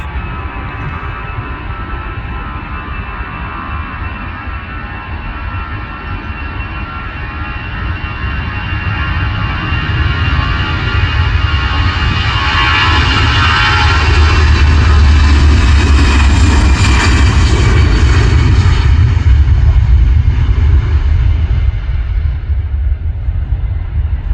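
A Brussels Airlines airliner takes off from Manchester Airport, its jet engines building into a loud, steady roar with a rising whine that peaks and holds, heard from a nearby viewing park with no talking.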